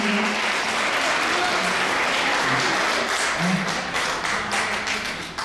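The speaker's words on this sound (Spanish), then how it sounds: "Un aplauso para ellos." A church congregation at a parish gathering claps for visiting community members, a dense burst of applause that fills the room and then gradually thins and fades.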